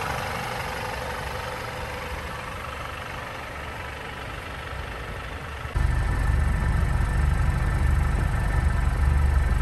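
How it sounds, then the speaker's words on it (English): A 2021 Mercedes-Benz E350 with a 2-liter inline-four engine idles steadily, a smooth even hum that grows louder and deeper partway through, with no talking. "listen to the sound from the engine"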